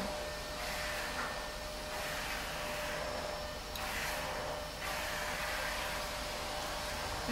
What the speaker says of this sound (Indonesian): Vacuum cleaner, jadi vacuuming ya, jadi agak ada noise sedikit.